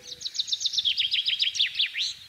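A chaffinch sings a rapid run of repeated descending notes that ends in a short flourish. The song is clear and moderately close over a quiet background, with no talk.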